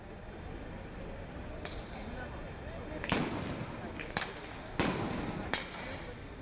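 Stun grenades go off during an elite police anti-riot training drill in Rio de Janeiro: several sharp, fairly distant bangs at irregular intervals over a steady crowd-like background murmur.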